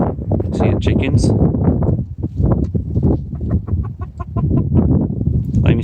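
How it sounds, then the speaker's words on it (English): Chickens cluck repeatedly nearby in a garden at sunrise, with sharp squawks mixed in, while someone talks over them throughout. "See the chickens."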